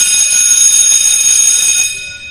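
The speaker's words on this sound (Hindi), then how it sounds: "स्कूल की घंटी बजी, छुट्टी की घंटी।" A bright electric school bell rings continuously at high pitch, loud and sustained, then cuts off and fades near the end.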